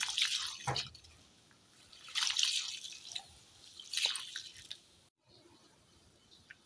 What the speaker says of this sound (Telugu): వాటర్ పోసాక ఒకసారి ఈ విధంగా వాష్ చేసేసుకోవాలి